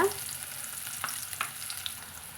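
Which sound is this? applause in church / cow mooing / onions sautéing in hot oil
onions sautéing in hot oil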